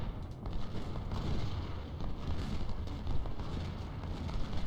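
Artillery fire in the Civil War strategy game Ultimate General: Civil War, a dense, low, rumbling barrage of continuous booms with no clear gaps, loud and close, with no voices.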